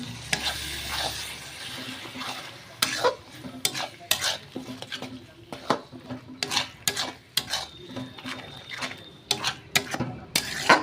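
Tomato paste is stirred in a frying pan for a chicken butter masala curry. Repeated scraping strokes of a utensil against the pan sound over a low sizzle, close and irregular, with no talking.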